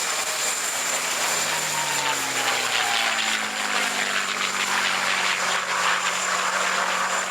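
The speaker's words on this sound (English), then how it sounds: "it's now in the colours of a Mustang 4A of the Royal Air Force, 112 Squadron" A P-51 Mustang fighter in Royal Air Force Mustang IVA colours with a shark nose flies at an airshow finale, giving a steady, loud propeller-engine drone that slowly shifts in pitch as it passes, with no voices.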